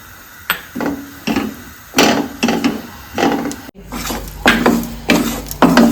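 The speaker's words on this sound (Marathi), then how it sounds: "चांगलं भाजून घ्यायचं लागेल तसं तूप घालून भाजून घेऊयात" Besan (gram flour) being roasted in ghee in a pan for besan ladoo, heard as repeated scraping and stirring strokes of a spatula against the pan, fairly close and loud, in an irregular rhythm with brief pauses.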